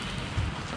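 Light misty rain falling outdoors near a marina at dawn in Tahsis, Canada, a steady soft hiss with no talk in this short stretch.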